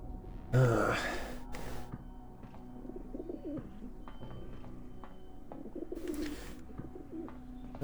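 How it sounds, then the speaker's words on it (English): Pigeons coo softly in the video game The Talos Principle, low throaty calls repeating against quiet ambient sound, with a couple of brief louder bursts of noise interrupting. "those must be simulated pigeons."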